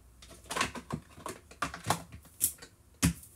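Ordinary household scissors cut through hair, giving a string of crisp, close snips at irregular intervals with quiet pauses between them.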